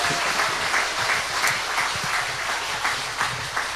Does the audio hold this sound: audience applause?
yes